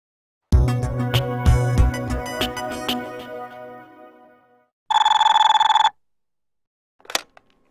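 A telephone rings indoors, with a few clear bell-like rings followed by a short electronic tone and a brief faint click, loud and close, each sound standing alone against silence.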